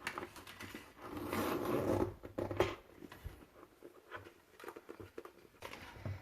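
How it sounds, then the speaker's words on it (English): A zipper on a black Louis Vuitton Alma BB Epi leather handbag is pulled open in a quiet, close, scratchy run of small ticking rasps, followed by faint handling rustles. "Let me unzip this bag."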